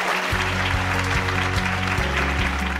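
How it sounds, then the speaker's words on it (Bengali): Steady, loud applause for contest winners in a TV show studio fills the whole stretch, with a low droning tone running underneath. "তাই সবার জন্য একটা জোরে করতালি।"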